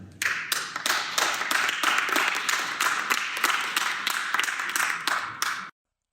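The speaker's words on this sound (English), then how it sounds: "The applause is not as strong because there are probably some NRA supporters in the audience." Audience applause at a Kyle Rittenhouse speech at WKU, a steady run of hand clapping with sharp individual claps standing out. It is fairly loud and continuous for about five seconds, then stops abruptly.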